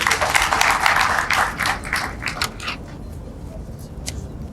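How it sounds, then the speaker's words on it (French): An audience claps in a lecture hall at a university ceremony, a dense burst of applause that thins out over a few seconds to scattered claps and room noise. "Veuillez l'applaudir, s'il vous plaît."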